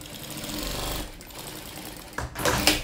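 A sewing machine stitches plastic into bias binding, running in a steady, fast mechanical chatter that pauses briefly and then speeds up again.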